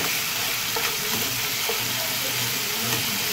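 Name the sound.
water poured into frying spice paste (masala) for doi curry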